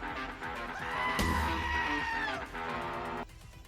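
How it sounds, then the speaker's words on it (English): A goat's scream rides over a distorted guitar riff, one long, sustained bleating wail holding steady for a couple of seconds before cutting off, the riff continuing underneath. "Goat scream over riff is chef's kiss."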